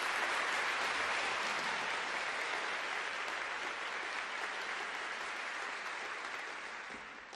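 An audience applauds to welcome a speaker to the stage, a dense, even wash of many hands clapping together that slowly fades toward the end, with no voices heard.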